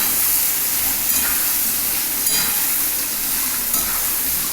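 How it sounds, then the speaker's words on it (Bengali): Potatoes sizzle steadily in a hot pan with a constant bright hiss, broken by a few faint scrapes of stirring. "আলুটা একটু ভাজা ভাজা হোক"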